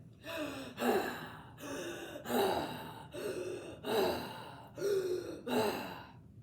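A voice imitates heavy monster panting: six loud, rhythmic breathy gasps, close up and alone, each a harsh rasping inhale-exhale.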